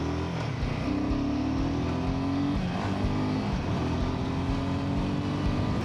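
Royal Enfield Himalayan 450 motorcycle cruising on a highway, its steady engine drone and wind noise loud and continuous with slight pitch shifts as the throttle changes, and no talk.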